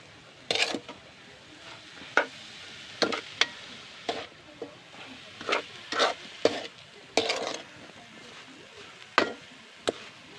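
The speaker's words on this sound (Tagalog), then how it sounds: "Haluin natin guys hanggang maluto guys yung sukal sa niyog" A spoon scrapes and knocks against a pan while coconut sugar is stirred until cooked, giving irregular sharp clinks and scrapes over a soft steady hiss, with no talking.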